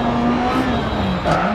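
Rally car engine at speed on a tarmac stage, a loud sustained drone with a steady engine note that shifts pitch briefly near the end, close and continuous.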